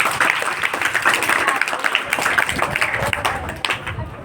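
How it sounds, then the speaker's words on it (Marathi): School students at a quiz in a Zilla Parishad school in Jalkot applaud a correct answer, their fast, dense clapping filling the room at close range, with some voices mixed in. "उत्तर बरोबर आहे. टाळ्या."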